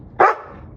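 A big dog lets out a single short, loud bark close by, followed by quiet indoor room tone.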